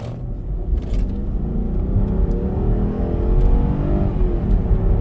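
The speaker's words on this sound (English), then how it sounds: "You can hear the V8." A 2001 Mercedes-Benz S430 V8 engine rumbles and revs up close as the car accelerates, its low growl building steadily, with faint road noise and no talking.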